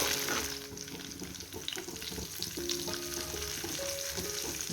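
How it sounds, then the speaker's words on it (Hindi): Green chillies and coriander fry in a pan for a mutton yakhni pulao, giving a steady, continuous sizzle with light stirring and scraping, along with faint background tones and no talk. "इसको हल्का सा हम 2 से 3 मिनट के लिए फ्राई करेंगे"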